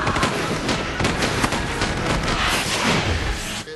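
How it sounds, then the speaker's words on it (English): Explosive bursts and crackling blasts from a rocket launcher in the 2005 sci-fi film Pterodactyl, a dense loud barrage lasting a few seconds with no speech. "Luckily, I have this unnecessary rocket launcher handy."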